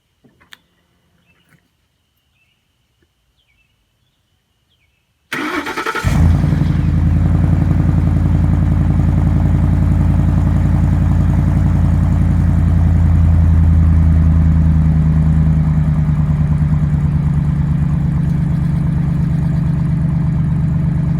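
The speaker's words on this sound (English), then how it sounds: "how great that exhaust sounded the night before it was removed" After a few seconds of near silence, a car engine fires up and settles into a loud, deep, rumbling idle through a Magnaflow aftermarket exhaust that continues steadily.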